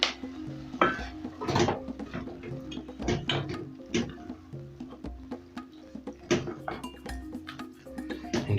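Chickpeas tipped into a pot of cooked tomato base, with clattering metal knocks and clinks of utensils against the cooking pot, several sharp impacts scattered over a steady low background hum.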